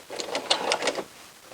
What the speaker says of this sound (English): you can remove it and continue sewing. And then I'm going to backstitch